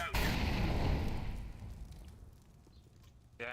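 An incendiary grenade in the video game Counter-Strike goes off with a loud, sharp burst that fades into a crackling, hissing tail, then another short sound cuts in near the end.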